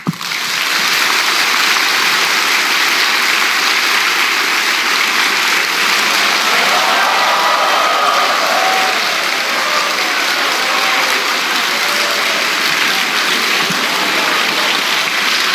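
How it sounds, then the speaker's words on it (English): A large audience applauds continuously as two speakers are welcomed onto a stage at a live event, a dense, steady wash of clapping that holds at full level throughout with no voices standing out. "invite these two distinguished speakers on the stage with a big round of applause"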